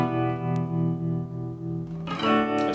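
An electric guitar played through a distortion effect sustains a thick, buzzing chord with a slow pulsing swell, then a fresh strum cuts in near the end, loud and close with no voices.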